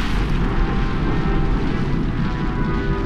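The Sakurajima volcano in southern Japan erupts with explosions, heard as a dense, continuous, loud roaring rumble with no break and no voices.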